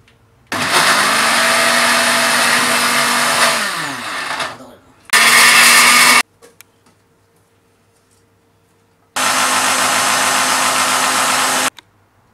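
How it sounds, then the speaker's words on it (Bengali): A kitchen blender whirs loudly through chopped boiled carrots for a bolognese sauce in three separate bursts: a long run that drops in pitch as it winds down, a short burst, then another long run, with quiet gaps between. "এই যে আমি ব্লেন্ডার করতেছি।"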